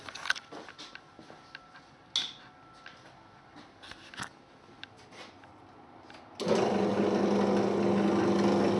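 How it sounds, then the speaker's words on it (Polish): A power drill whirs up loudly and runs steadily after a few seconds of small clicks and handling noises. "więc my sobie uruchomimy wiertarkę"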